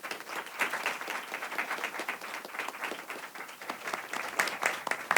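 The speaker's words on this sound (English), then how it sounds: "Give him a round of applause, please." Audience applause for Rep. Buddy Carter fills a packed room, dense steady clapping sustained at an even level throughout with no speech over it.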